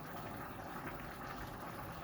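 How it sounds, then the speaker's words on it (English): Pot of water at a steady rolling boil while arroz con salchicha cooks, a continuous bubbling, hissing wash that is quiet and close, with no voices. "Ooh, it's boiling."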